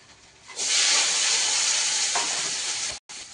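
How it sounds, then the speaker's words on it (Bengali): Pieces of chiti crab hit hot oil in a pan and burst into a loud, steady sizzle after a brief quiet start, hissing nearby and unbroken until a short cut near the end. "তো কাঁকড়াটা আগে তেলে দিয়ে দিই"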